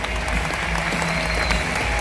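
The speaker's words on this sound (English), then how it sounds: "Let's give them a round of applause," Spectators at SeaWorld applaud young volunteers after a whale encounter, a dense, loud, sustained clapping from a large outdoor crowd with little variation throughout.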